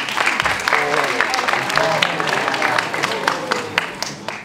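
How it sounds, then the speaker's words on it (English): A TEDx audience gives a speaker a round of applause, dense clapping from a large crowd, fairly loud and sustained, with a voice speaking over it. "Let's give a huge round of applause for Benoît Tunçer."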